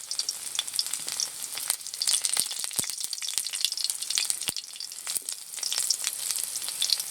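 Two dried red chillies and garlic frying in hot oil, a continuous crackling sizzle with dense spitting pops close by.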